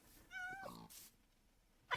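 A Minecraft cat gives a clear, tonal meow, followed by a short rough squeak and then a sharp second meow-like cry at the very end, all fairly quiet and close, with no talking.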